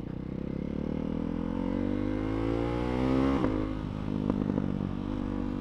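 A Ducati Scrambler motorcycle's engine revs while being ridden, its pitch climbing steadily in a loud, continuous drone before a sharp shift and a settled, rougher hum.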